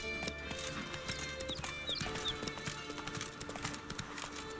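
A horse gallops across Skellige Islands in The Witcher 3, with a steady clip-clop of hooves, a brief whinny and wind, loud and close throughout with no talk.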